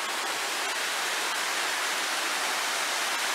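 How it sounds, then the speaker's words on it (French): Small waterfalls in a natural setting near an old mill produce a steady, broad rushing hiss of falling water, constant and fairly close, with no voices. "Et puis on a des cascades un petit peu partout."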